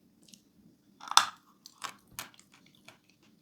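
A piece of edible chalk bitten and chewed close up, a few sharp crunches followed by softer irregular chewing sounds against near silence.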